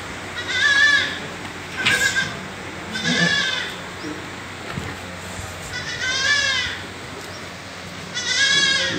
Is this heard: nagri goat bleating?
yes